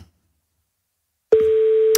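After silence, a single steady electronic telephone tone starts abruptly and holds, clear and fairly loud.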